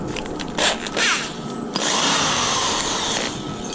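A power drill whirs in short bursts, then runs steadily for a couple of seconds before easing off, loud and close with no talking.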